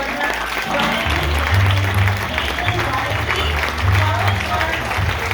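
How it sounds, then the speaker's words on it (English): An audience applauds a panel of guests as they come out, broad sustained clapping mixed with crowd noise and voices over a low steady rumble. "Let's give them a warm round of applause for Zach Woods, Brandon Gardner, Reilly"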